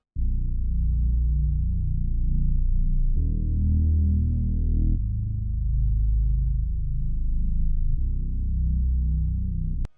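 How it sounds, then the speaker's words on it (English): A synthesized hip-hop bass with no effects, deep sustained notes shifting between a few pitches in long held steps, loud and alone, cutting off abruptly at the end. "Last, we have a bass."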